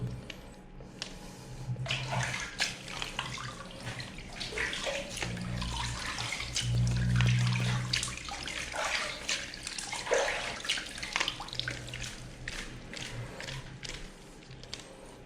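Running water rinses two fishing reels, one packed with ZFN Premium Grease and the other with a rival grease, making a steady splashing, gushing stream with a few louder surges and some low hum underneath.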